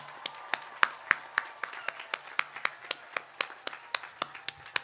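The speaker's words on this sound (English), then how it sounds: "turn around and face your families and give them a round of applause for everything they've" Graduates at a university commencement clap for their families, with crisp, evenly spaced claps close by, about four per second, over a faint background of wider applause.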